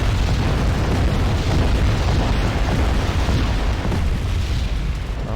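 A dense, continuous rumble of artillery barrage explosions in Wargame: Red Dragon, heavy low booms blending into one another at a steady, loud level with no voices.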